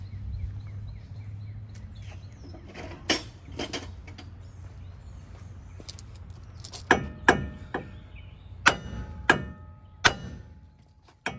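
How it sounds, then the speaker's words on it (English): Sharp metallic hammer whacks on a worn ball joint of a 1998 K1500 truck ring out, a few scattered at first, then a quick series of hard strikes, with a faint hum underneath. "I'm going to whack it with the hammer there."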